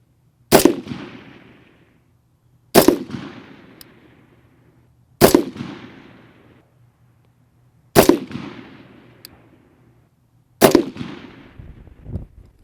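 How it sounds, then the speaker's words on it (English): A rifle fires five single shots while being zeroed on a range, each a sharp, loud crack followed by a decaying echo, spaced roughly two to three seconds apart with quiet between. "Let's put down another 5-shot group."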